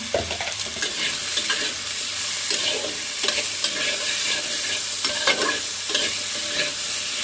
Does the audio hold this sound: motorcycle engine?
no